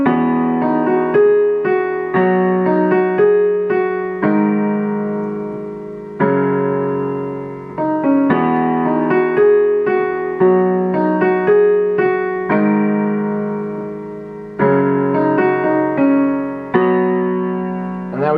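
Solo piano plays the chords of a song at tempo, sustained block chords changing in a steady rhythm with clear melodic notes on top, close and alone.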